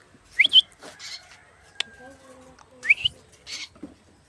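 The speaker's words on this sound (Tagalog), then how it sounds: "Dito yung ibon si Billy." A pet bird calls from inside its cage in two short bursts of high, sharp chirps a few seconds apart. Softer rustling and faint tones fill the gap between the calls.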